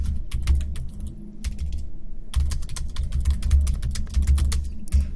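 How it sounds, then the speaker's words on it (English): Rapid, steady clatter of keys on a computer keyboard, close up, with short pauses between bursts of typing. "Sorry about my typing."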